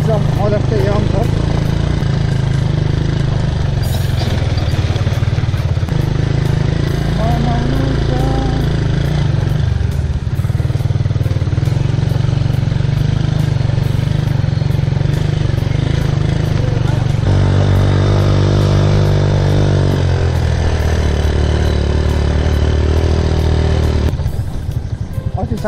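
A 16-year-old motorcycle's engine runs steadily and loudly throughout, a constant close drone with slight shifts in pitch, ridden on a moto vlog trip around Dharan, Nepal.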